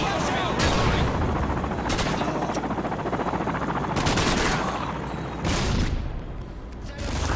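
An M16 in Modern Warfare 2 fires long, rapid full-auto bursts, loud and close, with sharp repeated cracks broken by short pauses.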